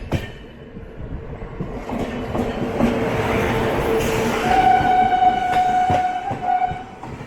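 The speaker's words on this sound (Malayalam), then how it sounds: "കൃഷ്ണരാജപുരം സ്റ്റേഷനിൽ ഏതോ ഒരു ട്രെയിൻ ഇറങ്ങി വരുന്നുണ്ട്" Patliputra SMVT Bengaluru Express pulling into Krishnarajapuram station, heard as a steady low rumble of rolling wagons with a sustained horn tone rising over it, moderately near.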